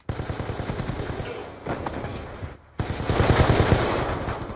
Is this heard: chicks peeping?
no